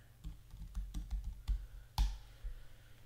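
Plastic computer keys clack at an uneven pace while a layer name is typed, with several soft taps and one louder keystroke close to the microphone. No voices are heard.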